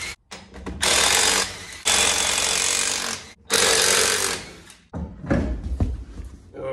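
A pneumatic impact wrench rattles loudly in several long bursts as it removes lug nuts from a wheel of a 1965 Cadillac Coupe DeVille that sat for fifteen years, with brief pauses between bursts.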